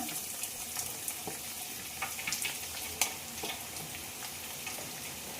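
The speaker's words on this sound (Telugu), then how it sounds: "ఆయిల్ హీట్ అయిపోయింది ఆనియన్ వేసేస్తున్నా" Onion dropped into hot oil for chicken curry, sizzling and crackling steadily at close range with small pops and stirring scrapes, no talk over it.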